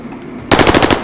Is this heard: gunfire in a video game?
yes